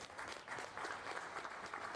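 Brief, faint round of applause from an audience at an artist-business panel, a short patter of many hands clapping at a distance.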